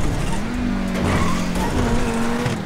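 Tires skid and slide on a car in GTA roleplay, a sustained loud screech with a wavering pitch over steady engine noise, continuous for the whole stretch.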